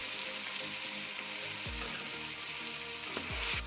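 Peas fry in a pan for matar pulao, giving a soft, steady sizzling hiss with a few faint knocks near the end, quiet and with no speech.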